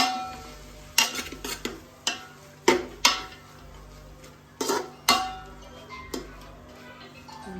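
Noodles being cooked and mixed in a pan at home, with close, sharp clanks of a utensil against the pan at irregular intervals over a low steady background hiss, no voices.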